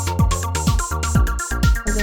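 A Detroit techno synth bassline with no low-end EQ boost plays a quick repeating pattern of punchy, pitch-dropping notes, loud and alone, without any talking.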